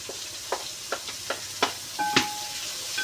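Onions for a beef fry sautéing in a pan, a soft sizzle broken by evenly spaced scraping stirs, with a brief clink and faint tone near the end.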